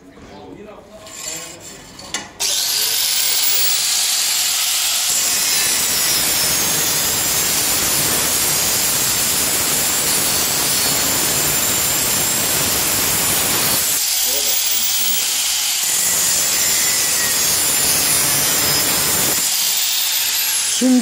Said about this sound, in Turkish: İşaretledim, keseceğim şimdi.